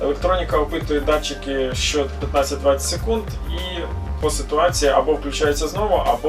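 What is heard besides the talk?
No everyday noises stand out.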